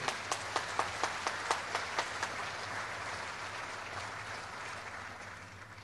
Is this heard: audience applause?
yes